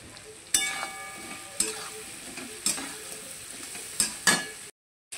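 Raw mango and turmeric powder are stir-fried in a pan: a soft frying sizzle broken by sharp scraping stirs at irregular intervals, close and clear, ending in a brief silence.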